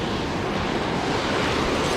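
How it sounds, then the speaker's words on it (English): Ocean waves crash and wash into rocky tidal pools on a beach, a continuous roaring surf hiss mixed with wind noise, close and steady, with no voices. "You can see where those waves are crashing."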